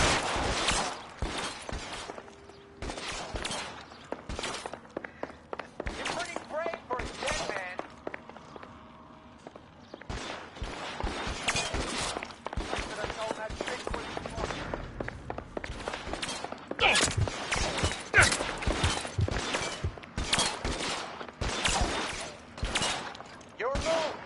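Gunfire in the L.A. Noire video game: rapid, loud shots crack in dense bursts over a shootout, with brief pauses, clattering impacts and occasional shouted voices.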